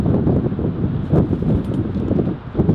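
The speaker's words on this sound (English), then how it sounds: "I have a really strong wind" Strong wind blows outdoors among dry leaves, a loud, continuous, gusty rumble that buffets close to the microphone with a rustling texture and no talk.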